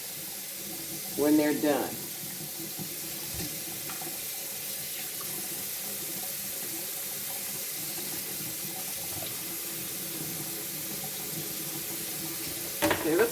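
Tap water streams steadily into a kitchen sink as broccoli is rinsed, a constant hiss with brief splashes near the start and end, while a voice speaks faintly over it.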